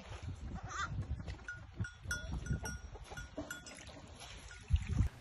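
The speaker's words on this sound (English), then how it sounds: "one of our goats just had a baby." Goats on a ranch bleat among faint farmyard rustling and shuffling, with a couple of louder thumps near the end.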